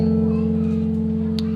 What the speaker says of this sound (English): I'm actually going to hold down a chord, an F dominant chord